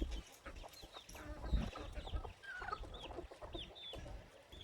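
Several hens cluck and chirp softly nearby, a busy scattered chatter with light rustling and no talking.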